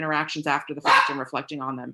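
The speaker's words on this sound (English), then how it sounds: "Sorry about my dog barking." A dog barks in brief bursts close by, partly masked by a person talking steadily over it.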